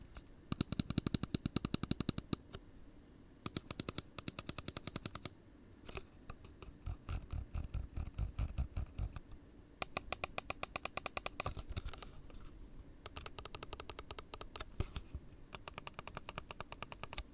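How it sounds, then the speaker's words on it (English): Rapid bursts of crisp, sharp clicks from the buttons of a G-Wolves HTX Ultra 8K gaming mouse, pressed close up in quick runs with short pauses between them and no talking. "Now, in terms of click sounds,"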